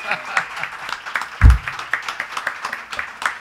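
An audience applauding to welcome a singer at a live Father's Day music session, brief scattered clapping mixed with talk and cheering.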